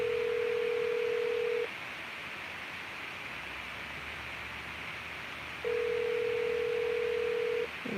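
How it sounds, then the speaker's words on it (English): A phone call dialed on speakerphone outdoors: a steady ringback tone sounds twice with a long pause between, under a constant hiss of background noise. "We'll call him on speaker."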